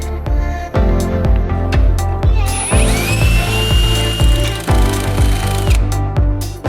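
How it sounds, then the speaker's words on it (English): An angle grinder grinds down the corner of a rear brake caliper bracket during a disc brake conversion on a 1989 Honda CRX, loud and continuous with a rising whine and repeated bursts as the tool bites into the metal. "So I'm gonna have to grind down that little corner right there to get that to work."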